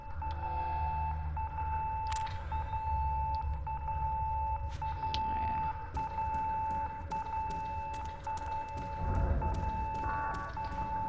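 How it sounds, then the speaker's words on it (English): A video game's nurse call alarm from room 203 keeps ringing as a steady, moderately faint electronic tone, with beeps and rustling game sounds around it. "It's a nurse call from room 203."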